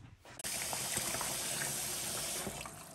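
Water runs steadily into a kitchen sink to make an ice bath for cooling a batch of pumpkin beer, starting abruptly after a short quiet moment and continuing as a loud, even gush.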